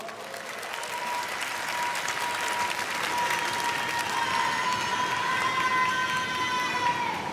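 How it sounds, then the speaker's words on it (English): An audience at a student speech event in Korea claps steadily for several seconds, a dense, even patter of applause heard from within the room at moderate volume, with no voices over it. "Let's welcome him with a round of applause."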